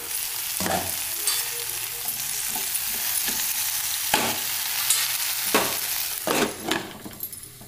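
Okra in yogurt simmers in a pan over a low flame, giving a steady soft sizzle with a few louder scrapes and clinks of stirring spread through, and no one speaking.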